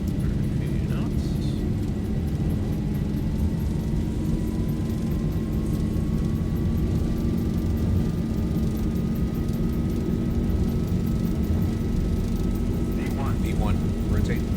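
Airliner engines roaring through a takeoff roll and rotation in the X-Plane 12 flight simulator, flying from San Francisco to San Diego in rainy crosswind conditions; a steady loud rumble with rising whine runs throughout under spoken callouts.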